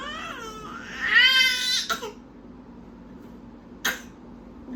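A baby cries loudly in a rising wail for about two seconds, then falls quiet, with a brief sharp sound later on.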